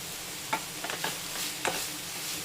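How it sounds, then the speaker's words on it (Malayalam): Onions sautéing in coconut oil with salt sizzle softly under a few scraping stirs of a spoon against the pan, close and fairly quiet. "ഒന്ന് ഇളക്കി കൊടുക്കാം."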